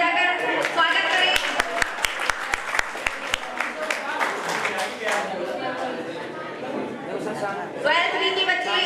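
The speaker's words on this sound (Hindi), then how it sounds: "तालियां बजाकर स्वागत करें" At a retirement ceremony, an audience claps to welcome a guest: a run of sharp, evenly spaced claps rings out near the microphone, blended with spreading applause and crowd chatter, while voices talk over it.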